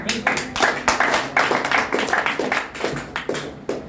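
An audience at a direct-selling training session claps in a brisk, irregular burst of close, sharp hand claps, with some voices mixed in.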